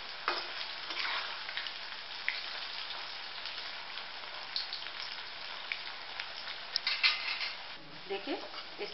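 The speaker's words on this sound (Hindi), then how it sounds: "देखिए इस तरह से तल लेंगे।" A green gram (moong dal) mixture fries in oil with a steady, rain-like sizzle, fairly faint, and the spattering carries on without break.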